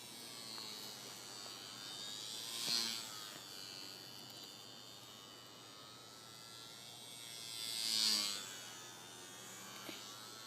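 A Gemini Ultra Micro Mustang RC plane, slightly underpowered and flying slowly, drones with a thin electric-motor buzz throughout, swelling twice as it passes closer, with no talk.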